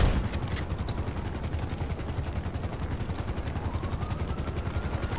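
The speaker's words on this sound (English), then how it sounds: "We ain't going nowhere with that chopper on us." A chopper's steady rotor thumping hovers overhead in GTA V, a rapid chopping pulse that stays fairly faint and even throughout.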